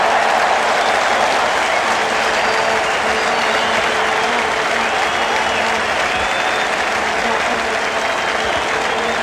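A cricket crowd at the WACA in Perth applauds a six struck into the stands by Dean Jones in a 1986-87 Australia v Pakistan match, sustained clapping and cheering throughout with a commentator talking over it.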